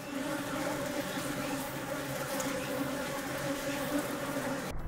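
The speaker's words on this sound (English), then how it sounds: "The bees are excitedly flying around." Japanese honeybees, excited after a yellow hornet attack, fill the air with a dense, continuous buzz of many wings, even and fairly faint, with no voices.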